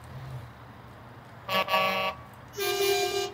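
Two blasts of a truck horn in Euro Truck Simulator 2, a short toot followed by a longer, louder honk, both loud and close with no talking.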